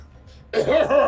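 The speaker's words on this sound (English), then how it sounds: "Just cough." A single short, close cough after a brief quiet moment, harsh and throaty.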